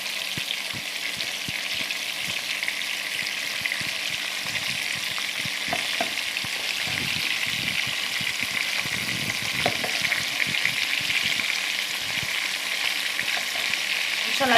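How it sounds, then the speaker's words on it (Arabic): Fish fries in a pan of oil for a Tunisian meal, making a continuous close crackling sizzle with scattered pops that holds steady for the whole stretch, with no talking. "هاو لازم توا نقلب الحوتات متاعي."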